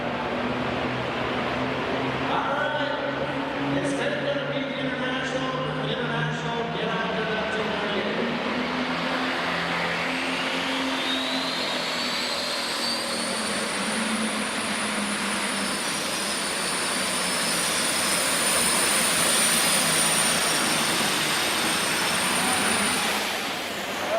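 A diesel truck at a truck pull roars continuously at a distance with broadband engine noise and a rising whine, swelling louder toward the end, while crowd murmur and faint voices sit underneath.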